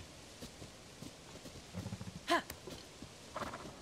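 Hollow clip-clop of a giant horse's hooves on hard ground in The Legend of Zelda: Tears of the Kingdom, a few uneven steps at moderate distance, with a brief sharp clatter partway through.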